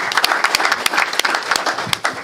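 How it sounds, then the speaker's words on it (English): A crowd applauds a boys track coach and his team at a school district gathering, with dense, steady clapping and sharp individual claps standing out, fairly close and continuous throughout. "So a round of applause for Coach Drendel and his group."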